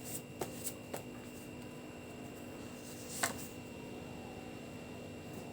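Tarot cards are shuffled quietly, giving a few soft papery flicks and one sharper snap over a faint background hiss.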